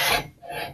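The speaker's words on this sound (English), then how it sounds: "I can lift the table with the rack right off of the" A drill press table with its adjusting rack slides up off the metal column, giving a brief, quiet rasping scrape that fades and then returns for a moment.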